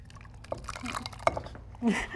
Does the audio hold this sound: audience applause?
no